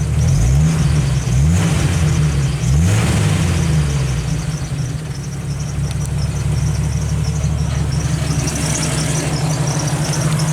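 A Jeep Wrangler engine revs under foot throttle, with loud, close rising and falling pulls at the start before settling into a steady, even drone.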